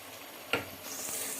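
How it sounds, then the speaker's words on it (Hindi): Chicken fries in a pot for Sindhi biryani with a soft, steady sizzle, broken by one brief knock of a utensil and then a brighter hiss as the stirring goes on. "हमारा चिकन ये थोड़ा सा फ्राई होने लग गया है।"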